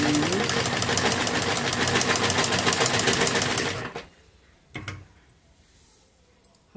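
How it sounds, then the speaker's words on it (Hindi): A sewing machine runs fast and steady, stitching along the edge of a kurti neckline, loud and close for about four seconds before stopping abruptly, followed by a few faint handling clicks. "किनारे पर एक स्टिच सिलाई लगाएंगे। बिल्कुल विक्रम के पास पास से हम इस सिलाई को लगाएंगे।"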